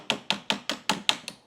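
Small ball peen hammer tapping a roll pin punch on a Ruger American Gen 2 rifle build: six sharp, evenly spaced metallic strikes in quick rhythm, close and clear with no talk.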